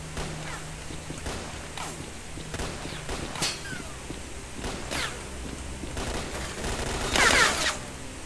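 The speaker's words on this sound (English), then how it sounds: "Are you shooting me or what?" Scattered gunshots crack out in STALKER Clear Sky around Limansk, spaced irregular bursts at moderate distance over footsteps and background noise, with a louder, denser flurry near the end, no one talking.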